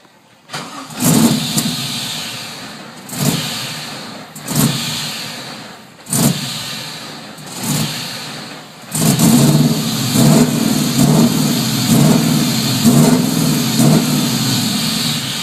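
Close car exhaust from an engine said to carry an aggressive cam, blipped in four or five sharp revs that fall back between each, then held in a longer sustained rev; loud and alone.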